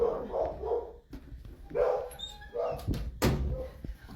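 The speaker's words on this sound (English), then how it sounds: "Sorry, that was my dog." A dog barks a few times indoors at moderate distance, short yips mixed with whining, alongside a thud like a door.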